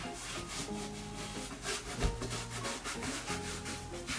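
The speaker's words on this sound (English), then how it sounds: "Now we can scrub it just a bit more on this, just in case." Toy cleaning supplies scrub back and forth across a surface during pretend play, giving a soft, rhythmic rubbing that repeats in even strokes, close and fairly quiet, with one brief louder knock midway.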